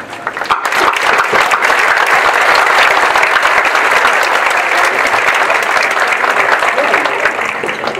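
Graduation audience applauding loudly and steadily for the full stretch, a dense wash of many hands clapping that swells in quickly and holds without pause.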